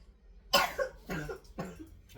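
A woman coughs three times in quick succession, each a harsh, close burst with short pauses between, and no talking over them.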